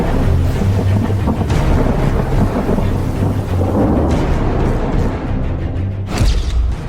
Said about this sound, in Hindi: भारी बारिश से शहर हुआ पानी पानी